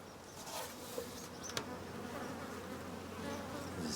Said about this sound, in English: Although there are plenty of bees there, it's not that full, is it?